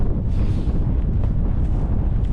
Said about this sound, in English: This easterly wind's going to hit us in the face.